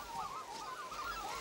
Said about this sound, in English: The capybaras scare great flocks of red-billed whistling ducks whose wing beats sound out over the